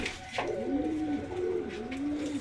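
Pigeons coo in a deep, rolling call close at hand, one bird repeating the throaty phrase over a couple of seconds with a faint rustle behind it.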